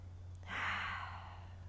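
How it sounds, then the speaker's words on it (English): One slow, deep breath out during a low back stretch, a soft breathy exhale close to the mic lasting about a second over a faint steady hum. "Two intentional cycles of breath."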